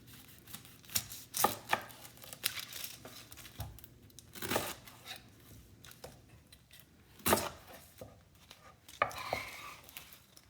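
A knife chops an onion into large chunks on a board for lamb shish kebab, giving a series of irregular sharp thuds spread across the clip with a quiet kitchen in between and no talking.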